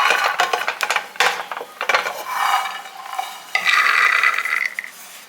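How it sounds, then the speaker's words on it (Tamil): Raw peanuts dry roasting in a pan are stirred in bursts of rattling, scraping strokes, with a sustained gritty hiss in the middle and near the end, close and fairly loud. "இது வந்து பச்சை நிலக்கடலை அதனால் நம்ம வறுத்துக்கிறோம்"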